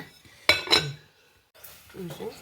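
A metal lid set onto a pan of brinjal palya, two quick clanks of metal on metal, followed by a quieter shuffle of cookware with a voice speaking faintly nearby.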